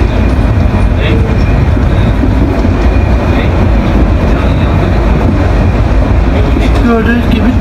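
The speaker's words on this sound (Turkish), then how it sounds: "Gördüğünüz gibi tren geliyor karşıma." Loud, steady rumble of a train rolling closer through a tunnel, with rattling wheels and occasional metallic squeals as it crosses switch points over the constant roar.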